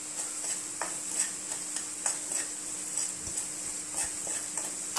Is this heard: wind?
no